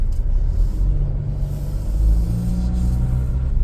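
A Mahindra Scorpio N SUV rolls over urban speed breakers, a steady low road and engine rumble heard from inside the cabin with soft thumps and no talking.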